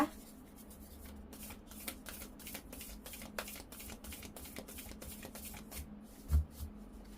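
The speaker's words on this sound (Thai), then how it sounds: "เราก็จะเริ่มต้นภาพรวมของดวงด้วยไพ่ เทพสังหรณ์นะคะ" Oracle cards are shuffled for a tarot reading in a quiet room, a continuous soft, close riffling with quick papery flicks and one dull thump near the end.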